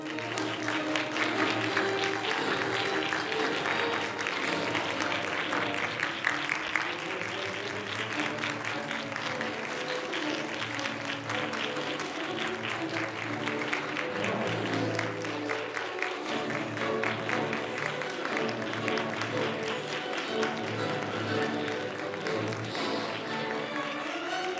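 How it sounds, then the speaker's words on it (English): An audience at the E.S.S. Cup 2024 claps steadily and warmly as judges enter a hall, a dense sustained patter of many hands from a large crowd in a reverberant room. "Please stand up and give them your warm applause."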